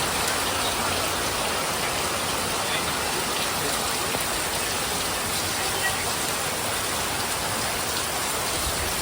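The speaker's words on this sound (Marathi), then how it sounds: "पावसाचा आवाज कसला येता" Steady, dense rain falls at a house in rural Konkan, a constant close hiss and patter of drops on surfaces that fills the whole stretch with no pauses.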